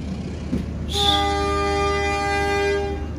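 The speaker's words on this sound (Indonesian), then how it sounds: "Kuto Jaya Selatan diberangkatkan dari stasiun Gandrung Mangun." The Kuto Jaya Selatan passenger train departs from Gandrung Mangun station in Indonesia with a loud, sustained horn blast that starts abruptly and holds steady for about two seconds over a low rumble of rail noise.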